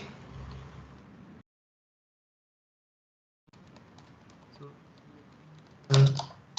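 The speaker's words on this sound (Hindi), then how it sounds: "शिफ्ट प्रेस करके एंड देन एरो कीज" Quiet, irregular clicks of fingers pressing shift and arrow keys on a computer keyboard, with a gap of silence midway, a louder clatter near the end and a voice talking over the keystrokes.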